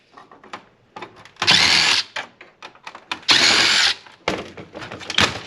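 A power drill runs in two loud sustained bursts while removing screws from a projector, with clicks, rattles and handling knocks of parts and screws between the runs.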